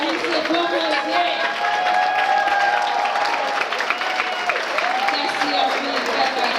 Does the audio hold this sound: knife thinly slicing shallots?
no